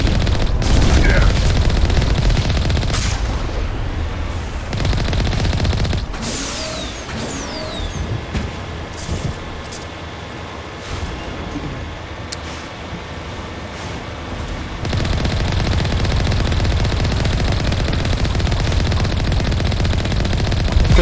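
Rapid automatic weapon fire from the video game Mass Effect 1, loud bursts with engine-like roars between them and a quieter patch in the middle, with voices talking over parts of it.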